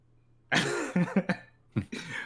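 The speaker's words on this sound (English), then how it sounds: "Big cough." A single harsh, loud cough followed by a few rough, throaty coughing bursts, close and alone.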